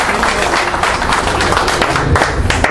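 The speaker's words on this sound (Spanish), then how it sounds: "con un fuerte aplauso" Audience at a Mexican electricians' union assembly gives a strong round of applause to welcome Héctor, dense, steady clapping filling the hall close up.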